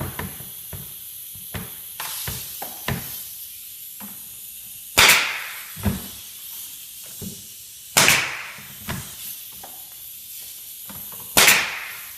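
Pin nailer driving pins into a wooden raised panel on a bar build: three loud sharp pops, spaced a few seconds apart, with quieter clicks and handling noises in between.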